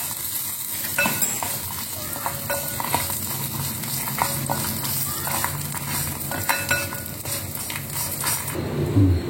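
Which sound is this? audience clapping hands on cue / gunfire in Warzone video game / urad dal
urad dal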